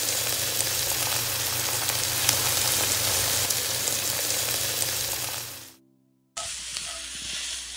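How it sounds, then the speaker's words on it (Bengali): Marinated chicken hitting a pan of fried onions for chicken biryani, setting off a loud, steady sizzle that cuts out briefly near the end, then resumes strongly. "বাকি অর্ধেকটা বেরেস্তার মধ্যে ম্যারিনেট করে রাখা মাংস দিয়ে দিচ্ছি।"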